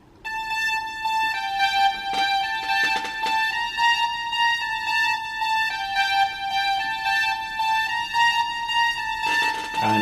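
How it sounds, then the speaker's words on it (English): A solo synthesizer track with a pulsating gate effect, sustained harmonic tones chopped into a steady rhythmic throb, loud and alone with no talking. "it has a pulsating kind of gate thing going on in it"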